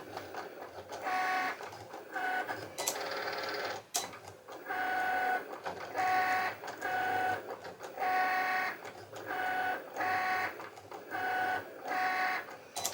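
A craft cutting machine cuts a Christmas design with a tree into Dollar Tree vinyl, its motor whining in repeated short, rhythmic bursts and pauses as the blade moves, steady and close throughout.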